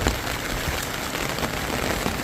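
Steady, dense rain pours down in Degloor during flooding, a continuous loud hiss of drops hitting surfaces with no voices present.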